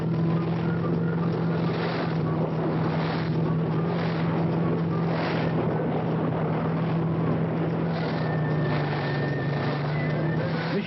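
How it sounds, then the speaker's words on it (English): Offshore powerboat Bounty Hunter racing in the 1979 Cowes–Torquay–Cowes race, her engines drawing air through large intakes with a steady, loud droning roar and wind buffeting throughout. "The engines gulp air through a large intakes as she chases the leaders"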